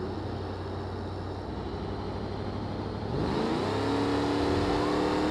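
An all-wheel drive Wendover in BeamNG.drive hums along, then its engine note jumps and climbs as it revs up, a steady motor drone rising in pitch partway through.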